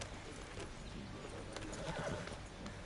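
Horse whinny and clip-clop hooves during horseback riding in the video game Red Dead Redemption 2, a steady mix of hoofbeats and neighing over a continuous background bed, moderately quiet.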